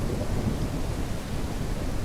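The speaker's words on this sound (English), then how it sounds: "They make it rain a lot in the game." Steady rain pours down with low rolling thunder in the farming video game Ranch Simulator, a continuous dense wash of sound with no voices.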